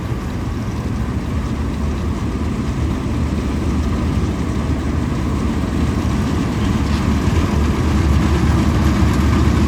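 A Mahindra tractor engine runs steadily with a loud, close, low rumbling drone that holds an even level throughout, with no voices.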